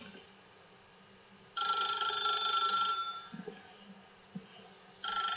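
A telephone rings in The Stanley Parable, with a loud ringing burst for about a second and a half, then a pause, then the ringing starts again near the end.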